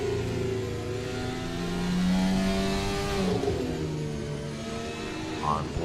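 Onboard race car engine from a racing video game at Grand Valley Speedway, revving steadily and rising in pitch over several seconds, close and continuous, with a commentator's voice running over it.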